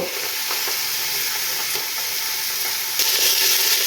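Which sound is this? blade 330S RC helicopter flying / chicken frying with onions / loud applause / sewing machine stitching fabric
chicken frying with onions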